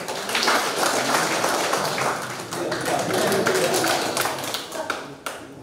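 Audience clapping at a police anniversary ceremony and thanksgiving, a continuous spread of hand claps held at moderate level for several seconds before tapering.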